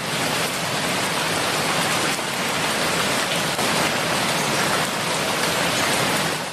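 Steady, dense rain pours down close by, an even hiss of drops on a hard surface throughout with no pauses.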